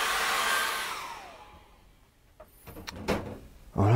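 A hair dryer blows loudly on an acrylic seascape painting, then winds down and fades out, followed by a few knocks and handling clunks and a burst of noise at the end.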